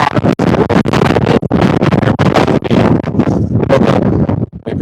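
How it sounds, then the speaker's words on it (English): Strong gust of wind buffeting an outdoor microphone near a subway entrance: loud, continuous low rumbling roar with brief dropouts, close and overwhelming, no clear voices. "Let me protect you from the wind."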